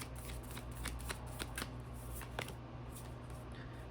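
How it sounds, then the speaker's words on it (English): Tarot cards are shuffled by hand in a series of quick, crisp riffling flutters, close and quiet, with a few sharper slaps as the deck is squared. "I'm going to pull another card."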